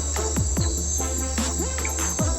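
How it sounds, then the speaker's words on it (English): Repeated downward-sweeping chirps and calls from black-backed frogs sound at night over a steady insect drone, fairly close and rhythmic. "It's a black-back frog."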